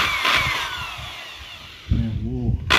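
A power drill whines steadily while boring holes in a wooden birdhouse, loud and close for the first couple of seconds, then a person's voice briefly takes over as the drill fades.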